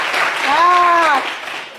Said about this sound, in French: applaudissez un peu pour mon président